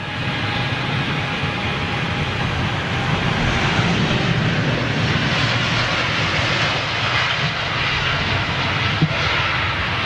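A Boeing 787 Dreamliner jet takes off at London Heathrow, a loud, steady, broadband engine roar that holds without a break from start to finish.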